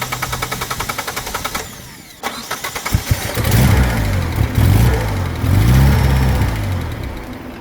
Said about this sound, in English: To me, it still sounds like it's hitting a fuel cut, like the ECU is not happy with some sort of sensor reading.